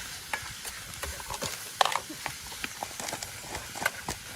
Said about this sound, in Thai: ผัดไปเรื่อยครับ